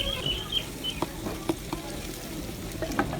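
Salt, black pepper and turmeric are stirred into mutton for Peshawari namkeen gosht, a steady soft sizzle broken by light spoon taps and scrapes against the pot, close and moderate.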